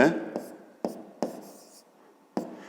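Chalk writing on a classroom board during a fifth-grade geometry lesson, several separate taps and short strokes spaced irregularly, fairly close and clear, with quiet room tone between them.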